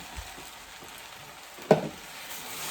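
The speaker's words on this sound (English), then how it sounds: "Gonna give this a stir." Shrimp and pineapple frying in a pan with a faint steady sizzle, then a single sharp clack of a spoon stirring against the pan, close up and without talk.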